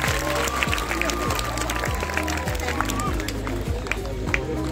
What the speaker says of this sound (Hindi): तालियां बजती रहे छोटे बच्चों को।